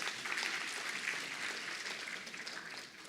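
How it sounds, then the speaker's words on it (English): Sustained applause from a conference audience at the Eswatini Local Government Conference, a steady dense crackle of many hands clapping, fairly distant and even throughout with no speech over it. "Can you give him a big round of applause?"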